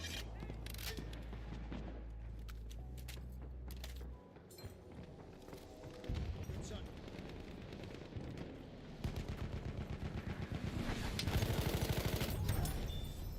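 Machine gun fire in the video game Battlefield 1, with rapid bursts of gunshots over a dense battle soundscape of rumbling and distant explosions, growing louder and more sustained toward the end.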